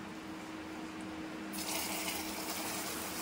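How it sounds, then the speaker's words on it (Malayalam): Hot caramelized sugar poured into a Tirunelveli halwa mixture made with wheat flour, a steady liquid pouring rush that starts abruptly partway through and continues close and fairly loud, with no talking. "കാരമൽ ചെയ്ത പഞ്ചസാര കുറേച്ചെ ഇതിലോട്ട് ആഡ് ചെയ്ത് കൊടുക്കാം."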